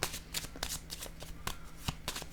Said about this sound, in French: Je vais déposer une carte ici sur le voyage.